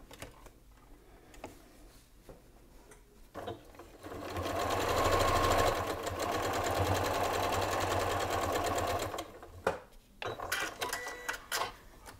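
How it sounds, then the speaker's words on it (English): Sewing machine stitching a quarter-inch seam on a quilt block, a fast steady mechanical whirring burst lasting several seconds, framed by quieter handling clicks and rustling before and after. "So I'm just going to sew a 1/4 inch seam."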